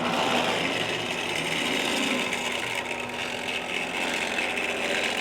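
A Hornby Triang RS101 Overlander set model train from 1972 with a transcontinental locomotive running round its track, giving a steady close whirring motor hum and rail rattle throughout, no talk.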